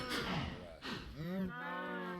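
Cattle in Minecraft moo in two or three drawn-out, close, loud calls that follow one another with no talk.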